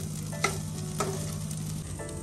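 Green peas frying in an onion and ghee tadka, giving a steady close sizzle with a few short stirring clatters and no talk.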